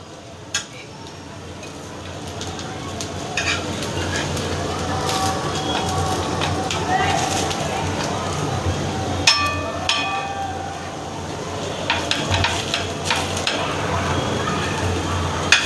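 Food shallow frying in a kadhai with a soft steady sizzle, joined by scattered clinks and scrapes of a utensil against the pan, with a voice speaking now and then.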